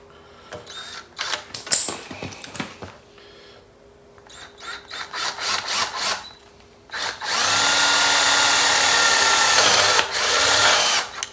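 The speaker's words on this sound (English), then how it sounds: "I may drill one and drive the pin in and see if I can mark it that way" A power drill with an eighth-inch bit bores a hole for an oil pump primer tool for a 1926 Oakland: short stuttering bursts of whirring, then a sustained loud drilling run of several seconds, close up and without speech.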